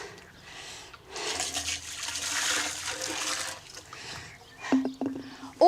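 Boiling water pours and splashes steadily over dairy utensils in a farm kitchen for a few seconds, a broad rushing wash that ends in a brief clatter and a sharp knock.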